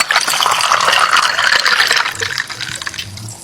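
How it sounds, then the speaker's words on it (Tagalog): Hot water runs from a kitchen tap to rinse an item at the sink, a steady loud gush with splashing that thins out toward the end. "hugasan po natin ng mainit na tubig."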